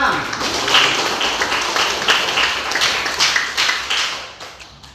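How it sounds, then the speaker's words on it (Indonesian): A classroom full of students clapping together, steady and moderately loud at first, thinning out and fading toward the end. "Sekali lagi tepuk tangan untuk kelas 10-6."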